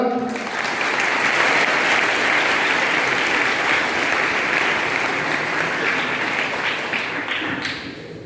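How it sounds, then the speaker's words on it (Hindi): Sustained audience applause at a school New Year celebration follows a classical dance performance, a dense wash of clapping from a large crowd holding steady for about eight seconds before thinning slightly at the end. "जिस खूबी से उसने ये डांस किया उसके लिए मैं स्पेशल तालियां आपसे चाहूंगा।"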